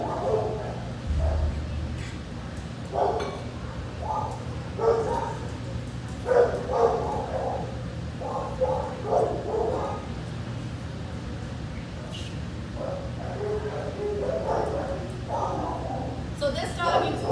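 Several dogs bark and yip in bursts at a dog training session, a little way off, with someone talking over them and a steady low hum underneath throughout.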